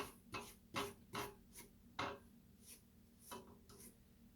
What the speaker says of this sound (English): now we're going to scrape down the sides